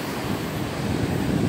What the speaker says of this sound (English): And we got typhoon waves.